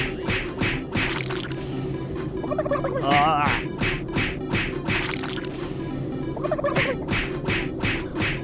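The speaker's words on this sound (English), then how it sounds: "Punch the crap out of these poor turkeys." Turkeys gobble in the Super Turbo Turkey Puncher 3 arcade game inside Doom 3, a run of rapid warbling gobbles mixed with dull punching thwacks over a steady game hum, loud and clear.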